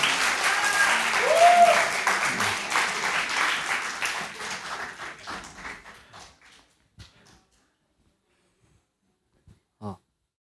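Applause from a church congregation for a young man, a loud wash of many hands that thins out after a few seconds and trails into a few scattered late claps and near silence.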